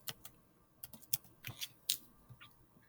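Typing on a computer keyboard, a quiet, irregular run of individual key clicks and taps over about three seconds, close and faint, with no voices.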